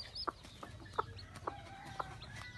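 Newly hatched chicks give soft, faint peeps in a quiet setting, about four or five short chirps spaced roughly half a second apart.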